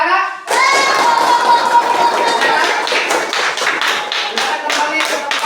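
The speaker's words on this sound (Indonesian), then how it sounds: "Tepuk tangan anak-anak" A classroom of children claps for a group, a sudden loud burst of many small hands that holds steady for several seconds before thinning slightly.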